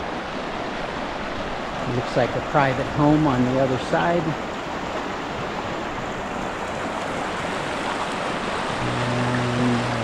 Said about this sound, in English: And this is the Crystal River